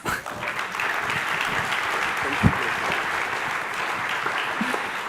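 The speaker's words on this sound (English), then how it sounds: "So I think it deserves another applause." Steady audience applause at a startup award ceremony, a continuous crowd clapping texture at moderate level that carries through the whole stretch with one brief louder knock midway.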